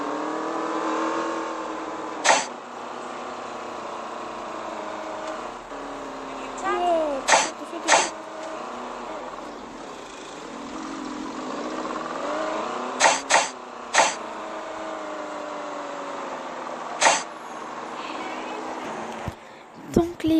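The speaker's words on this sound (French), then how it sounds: "la Range Rover, c'est vraiment un véhicule qui me plaît énormément" A Range Rover's engine in the Taxi Sim 2020 driving game hums and rises and falls in pitch as it accelerates, with sharp clicks scattered through and someone talking over it.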